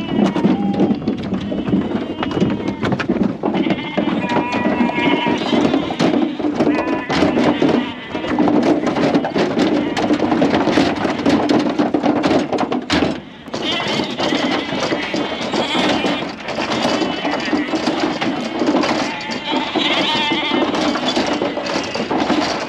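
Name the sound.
Shetland ewes bleating and running out into the field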